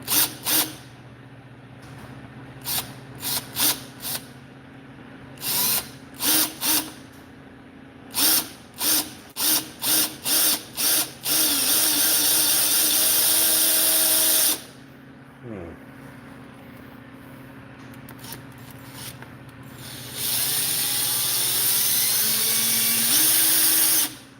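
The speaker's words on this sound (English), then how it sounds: "Just drill straight through." Power drill used on a robot build, drilling straight through a part in a series of short loud whirring bursts followed by a longer continuous run and another sustained burst, with faint background noise between.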